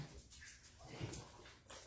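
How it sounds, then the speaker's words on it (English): A house dog whimpers to be let outside, soft high whines and faint whimpers repeating quietly indoors, low in level with no one speaking over them. "My dog has to go out."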